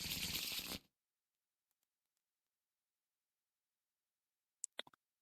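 Arkham Horror card game cards shuffled back into a deck: a quick flurry of riffling snaps near the end, following a short burst of indistinct noise at the start and a long quiet stretch.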